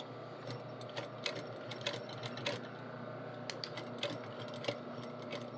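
A home sewing machine stitching a pocket seam, running steadily with a soft rapid needle clatter and small irregular clicks, fairly quiet and with no talking.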